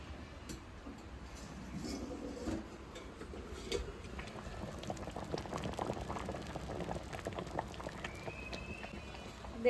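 South Indian sambar boiling in a pot, a faint continuous bubbling with soft irregular pops and ticks, close but quiet, no talk.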